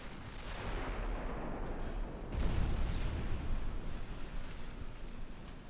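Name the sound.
torpedo hit on a heavy cruiser, from the video game Ultimate Admiral Dreadnoughts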